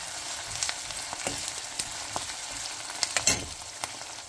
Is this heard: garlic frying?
yes